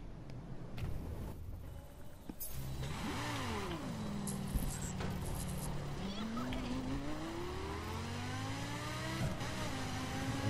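An off-road car in The Crew revs hard and accelerates, its engine pitch climbing, dropping and rising again through gear changes, loud and close for several seconds.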